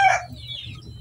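A single short cluck from a nearby Bruce Barnet Sweater gamefowl chicken, followed by a faint high chirp and low background rumble.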